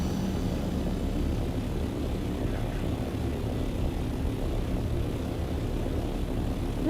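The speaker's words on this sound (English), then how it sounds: "Surprise ornithopter." A video game ornithopter aircraft flies with a steady droning engine rumble, continuous and fairly loud without variation.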